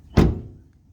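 A 2021 Ford Ranger pickup door swings shut with one dull, close thunk that quickly fades into a faint low rumble.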